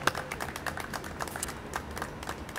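An audience at a city transportation and public works meeting claps in a steady patter of quick, light claps that carries on evenly throughout.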